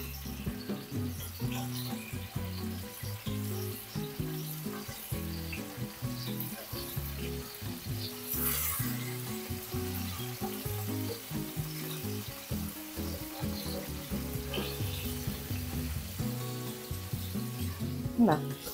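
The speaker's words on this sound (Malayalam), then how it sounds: "ഈ എണ്ണയിലോട്ട് ഈ പനീറില്ലേ മസാല ചെയ്ത് വെച്ചേക്കുന്നത് അതിട്ട് കൊടുക്കാം. ഇനി ചെറുതായിട്ട് അപ്പുറം അപ്പുറം ഒന്ന് ഫ്രൈ ചെയ്തെടുക്കാം." Paneer coated in masala fries in oil on medium flame, giving a steady, close sizzle that crackles continuously throughout with no pauses.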